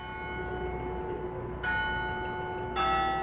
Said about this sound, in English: Even the church bells play it daily.